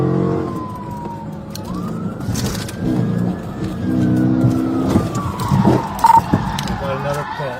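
A police car with its siren wailing forces a fleeing suspect car off course in a PIT maneuver during a chase; engine roar and tire noise mix with the rising and falling siren, and voices are audible.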